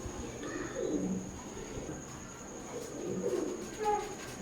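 Teddy pigeons of an imported bloodline coo in soft, low bursts, first around the middle and again near the end, with a faint steady background hum.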